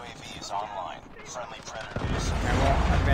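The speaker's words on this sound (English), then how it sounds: "I'm just shooting." Gunfire in Call of Duty Mobile, dense overlapping shots and rumbling impacts that grow louder toward the end, with speech running over the shooting.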